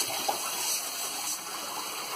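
Water splashes and gurgles steadily as it is poured into a multicooker bowl for buckwheat porridge, a close, continuous stream lasting a couple of seconds.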